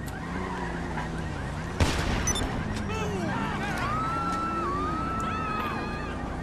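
A single sharp pistol shot rings out partway through GTA Online gameplay, standing out against a steady bed of vehicle and game noise.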